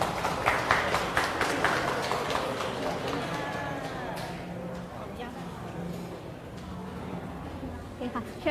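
Audience at a TEDx press event in Bang Khun Thian welcomes a speaker with a burst of brisk clapping that is loud at first, then thins and fades as a voice begins talking.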